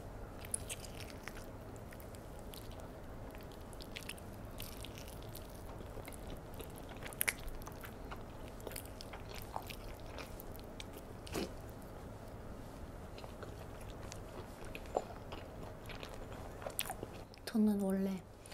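Roasted KFC whole chicken drumstick being bitten and chewed close to the mic, with steady crunchy, wet mastication sounds and a few sharper bites throughout.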